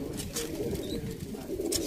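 Pigeons coo softly on a rooftop, with low, throaty calls repeating over a faint background murmur.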